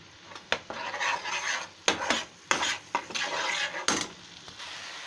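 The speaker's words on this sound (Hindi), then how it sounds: "अब इसको हम भूनेंगे, थोड़ा हाई फ्लेम कर लेते हैं।" Ground spices for malai kofta being roasted in a pan over a high flame give a gritty scraping stir, with sharp spoon knocks against the pan at irregular intervals and a faint sizzle beneath.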